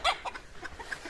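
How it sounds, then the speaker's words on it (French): A small black rooster on a farm with Pekin hens and Brahma chicks gives a few short, faint clucking calls at a distance, with no talking over them. "ce que vous entendez en fait c'est le petit coq noir que je vous ai fait voir tout à l'heure"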